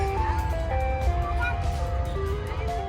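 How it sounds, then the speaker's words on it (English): Tinny, looping chime melody from an ice cream truck parked at a park in autumn, heard nearby over outdoor crowd murmur and background bustle. "We found the ice cream truck,"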